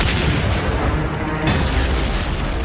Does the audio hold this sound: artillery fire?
yes